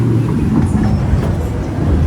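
A low, continuous rolling rumble comes from the little toy train running along Busselton Jetty in Western Australia, fairly loud and close, with a faint hum of the outdoor setting.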